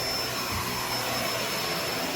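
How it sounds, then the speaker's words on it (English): A Kenmore BU4022 Intuition bagged upright vacuum cleaner with lift-up carpet cleaning runs steadily at close range, giving a continuous broadband whine and roar with no pauses. "It's just such an amazing vacuum cleaner."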